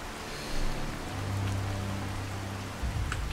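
Steady rainfall in the video game Fallout 4, a continuous even hiss of falling drops with a faint low rumble, heard alone without speech.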